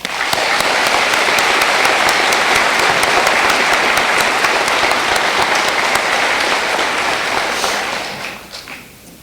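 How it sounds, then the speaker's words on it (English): A large audience at a Defiance College commencement ceremony gives a sustained round of applause, loud and even for about eight seconds before fading off at the end. "Let's give them a round of applause."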